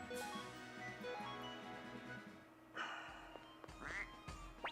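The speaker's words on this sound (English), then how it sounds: "Damn quacking." Ducks quack in the Suikoden video game, several short nasal quacks in the second half over a steady looping game soundtrack.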